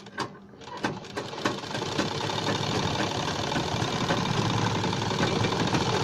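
A sewing machine stitches fabric around the buckram edge of a neck design, a dense, steady mechanical whirring with a fast, even rhythm that runs without a break after a few brief starts.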